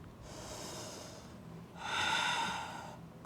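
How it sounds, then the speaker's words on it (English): Deep yoga exhales pushed out through the mouth during a vinyasa flow: two close, breathy whooshes, the second louder and fuller, with no talking. "Out the mouth, side out. Big breath here. Big breath out."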